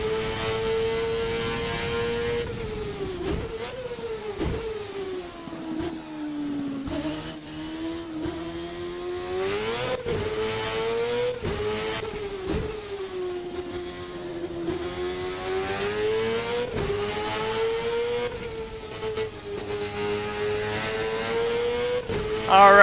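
A race car engine in the VRC Formula North America 1999 sim game revs and climbs steadily through the gears, a loud continuous whine with sharp dips at each shift, heard alone for over twenty seconds.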